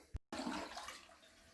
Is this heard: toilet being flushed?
yes